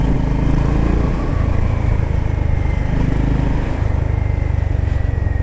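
A 2025 Honda GB350S motorcycle engine runs close and loud, a dense, steady low thumping rumble that continues without a break and with no talk over it.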